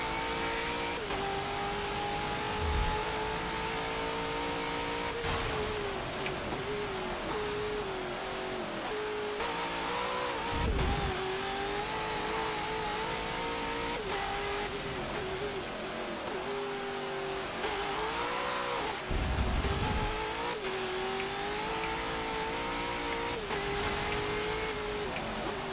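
Race car engine in a racing video game on a wet track, revving hard and rising and falling through repeated gear changes with brief dips between shifts, loud and continuous with no talk.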